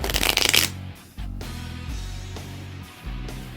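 Playing cards being shuffled by a spectator during a magic trick: a brief, loud burst of riffling flutter followed by softer handling sounds, close up with no talking.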